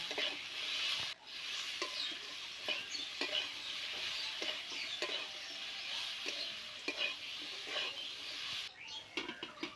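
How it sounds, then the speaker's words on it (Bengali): Cauliflower and potato pieces frying in a pan with salt and turmeric, a steady close sizzle with intermittent scraping stirs throughout and no talking. "এবার ফুলকপি আলুটাকে আবারও কিছুক্ষণ আমি ভাজা ভাজা করবো"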